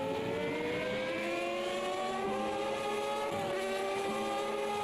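Formula Classic Gen 4 race cars from Automobilista 2 racing at Cascais, engines droning with rising and falling harmonic pitch as they accelerate and shift, a steady loud mechanical whine throughout with no talk.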